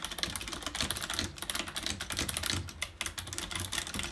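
Continuous typing on a Razer Ornata V2 Hybrid mecha-membrane keyboard, a rapid, close stream of crisp key clicks with soft clacky undertones, heard alone without speech.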